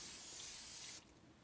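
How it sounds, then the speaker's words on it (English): Cooking spray hisses from a can onto a mold for casting concrete spheres in one steady close spray lasting about a second, then cuts off to quiet room tone. "We're going to be using the cooking spray to lubricate the molds. So we'll start by spraying the mold"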